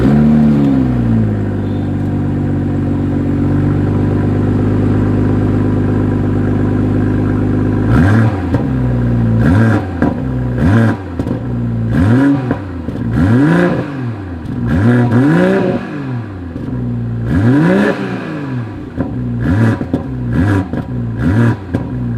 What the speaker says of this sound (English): I'm just going to throw it in sport driving mode here and enjoy the sound here.